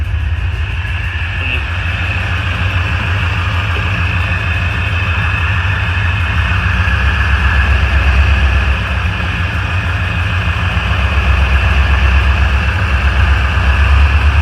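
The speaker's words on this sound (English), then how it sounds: "I just want it just off idle. This thing's gonna warm up really quickly here." A 1984 Corvette engine runs steadily just off idle with a constant low rumble and a faint higher hum, close and loud, with no talking.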